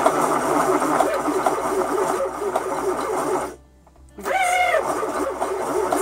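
A Weaver YW-100 electric yarn winder hums steadily up close, cuts out briefly, then spins back up to a faster, rising whine.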